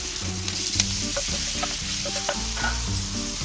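Ginger and green chilies sizzle in a pan for khasta kachori stuffing, stirred with rhythmic scraping knocks of a spoon over continuous close frying hiss.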